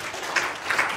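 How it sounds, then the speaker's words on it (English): A church congregation claps their hands together in a steady, dense wash of applause that swells twice briefly, heard from within the room with no talking. "Will you clap your hands unto the Lord?"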